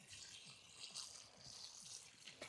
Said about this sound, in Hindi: मैंने इसमें पानी चला दिया है